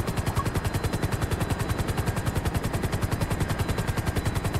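Automatic gunfire in GTA 5 Online, a steady, fast rhythm of sharp repeated shots that runs unbroken for about four seconds, close and loud, with no voices.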